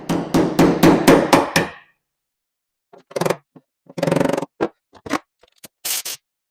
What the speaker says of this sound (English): This ring, you hammer on these little ledges here, and it just unwinds it.